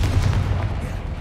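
A Bombarda spell blast goes off in a Harry Potter video game, a loud, booming burst of rumbling impacts close up, fading out over about a second.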